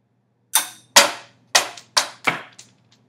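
Two projectiles launched together, one dropped and one fired horizontally, strike the floor in a classroom physics demonstration, giving a run of five sharp, close, loud impact cracks with short decays and no talking.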